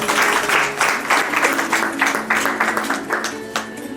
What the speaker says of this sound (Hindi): एक बार हम स्वयं तालियों से अपना अभिनंदन करें